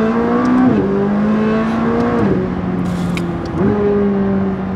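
A McLaren 600LT engine, Stage 1+ tuned to 660 hp, accelerating hard, revs climbing in steady pulls with two quick gear-shift dips, loud and close from inside the cabin.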